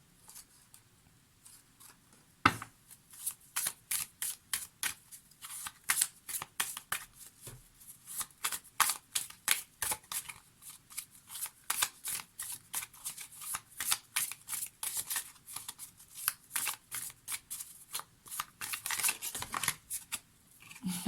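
Butterfly oracle cards are shuffled up close in a long series of quick, papery riffles and slaps, steady and rhythmic with no speech.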